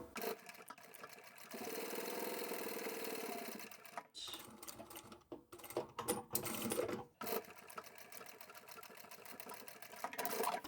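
A sewing machine stitches fabric pieces together for a pot lid cover, its rapid mechanical chatter running close and steady, then breaking into short stop-start bursts before settling into a steady run again.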